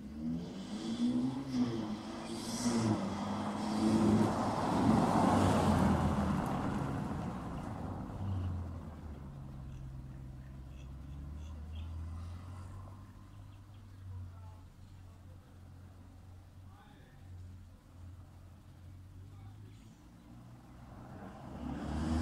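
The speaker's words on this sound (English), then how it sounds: "now we're on the road, roof down" Ferrari Portofino driving on the road with the roof down, its engine surging loudly early on and then settling into a low, steady drone with wind and road noise around it.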